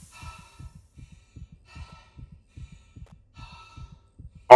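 Steady, quick heartbeat in a horror game, soft low double thumps repeating evenly, with faint breathy sighs in the background and a sudden loud burst at the very end.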